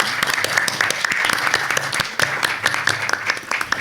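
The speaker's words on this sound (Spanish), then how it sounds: "Así que un aplauso para las niñeces presentes." Applause from an audience at a book presentation, a lively, close round of clapping with distinct individual claps that continues steadily for several seconds.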